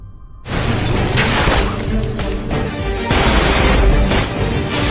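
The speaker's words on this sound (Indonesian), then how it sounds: "Kini Oliver sudah berada di tempat yang ia targetkan dan adu tembak pun terjadi." Gunfire and crashing impacts from a shootout in the TV series Arrow, a loud, dense barrage of shots, bangs and shattering that starts abruptly after a short quiet moment and continues steadily throughout.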